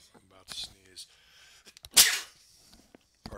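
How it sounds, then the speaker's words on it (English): A loud, sharp sneeze bursts out once in the middle, between stretches of a man's speech, close to the microphone. "Excuse me, I'm about to sneeze."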